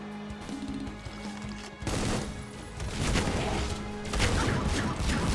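Chaingunner enemy firing in Supplice: dense, loud bursts of rapid gunfire with crashing impacts over game music, intensifying in the second half.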